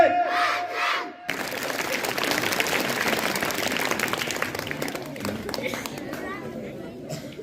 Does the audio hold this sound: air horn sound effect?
no